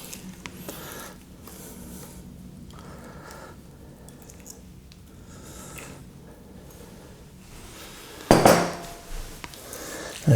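Hands rub marinade onto a butterflied lamb and scrape the last of it from a bowl, giving soft, squishy wet rubbing with a louder clatter of bowl and utensil near the end, close and without talk.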